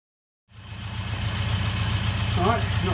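A Mini's engine cranks over without firing after a moment of silence, a continuous low, pulsing mechanical churn that starts abruptly and holds at an even, moderate level.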